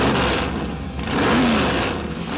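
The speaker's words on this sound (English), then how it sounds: "The flip of a switch, this butterfly opens up, and you've got open exhaust." A loud 1970 Nova engine roars through an open exhaust from electric butterfly-valve exhaust cutouts, its rough, throaty rumble swelling and easing as it revs.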